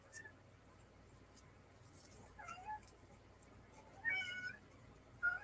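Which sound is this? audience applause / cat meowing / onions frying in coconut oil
cat meowing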